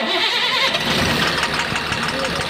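A Tata Cummins truck engine with a worn connecting-rod bearing runs loud and close, a rough idle with knocking, while someone talks over it.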